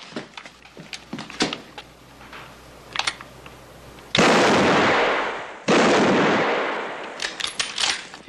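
Rifle shots ring out in two loud, close blasts, each with a long rolling decay, set among scattered sharp clicks and knocks.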